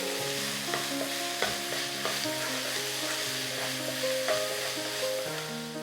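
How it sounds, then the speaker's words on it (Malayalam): Vegetables sautéing with green chilli sauce in a pan for mixed fried rice, a steady close sizzle with regular stirring taps and scrapes, alongside a sustained tonal hum in the background, no talking. "ഇത് നല്ലോണം സോട്ട് ചെയ്യുക."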